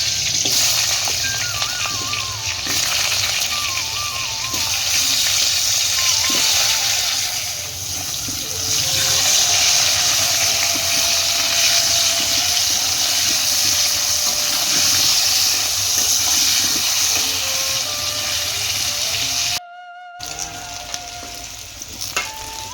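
Potatoes for aloo dum fry in a pan, a loud, steady sizzle with stirring and scraping throughout, close by, with one very brief cut in the sound near the end.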